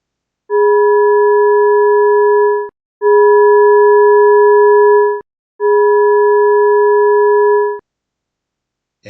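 Three sustained, steady humming tones, each made by turning ultrasound readings from rock after 10 and 20 freeze-thaw cycles into sound. Each tone has a few harmonics, lasts about two seconds and stops cleanly, with short silences between them.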